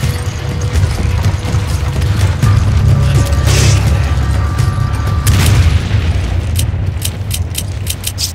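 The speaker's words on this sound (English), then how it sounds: "A grenade. Use this." Grenade blast in Resident Evil 5: a loud, sustained booming rumble with heavy low-end roar, punctuated by sharp impacts around three and a half and five and a half seconds, then a series of metallic clicks and rattles trailing off.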